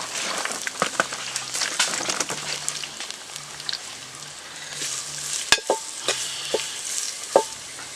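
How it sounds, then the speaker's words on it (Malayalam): Onions frying in oil at an outdoor camp cooking chicken curry, with a crackling sizzle and repeated sharp spatula scrapes and knocks against the pan. "അതേ എണ്ണയിലേക്ക് ഇനി നമുക്ക് ഈ സവാള ഇടാം."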